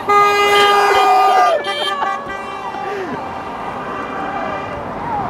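A car horn honks in a long, loud blast, then short beeps follow over steady traffic noise, with brief voices in the background.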